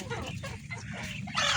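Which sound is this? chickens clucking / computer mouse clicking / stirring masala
chickens clucking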